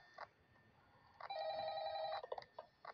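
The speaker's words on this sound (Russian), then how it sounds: "телефон звонит" A telephone rings in a Five Nights at Freddy's style horror game, sounding as a trilling electronic bell: short bursts, then a long sustained ring of about a second, then more short bursts, moderately loud over faint background.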